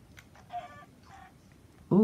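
Chickens clucking in the video game Minecraft while foxes attack them, soft short clucks and squawks in two brief bursts, followed by a sudden louder squawk at the end.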